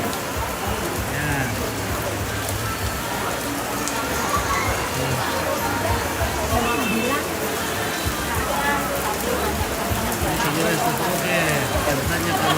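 Cold rain pours steadily and heavily, a dense, constant hiss of drops hitting surfaces from start to finish with no pause.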